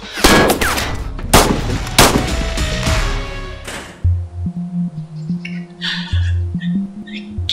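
Gunshots in the survival game DayZ, a close cluster of sharp, loud cracks in the first few seconds, followed by quieter in-game sounds and low tones.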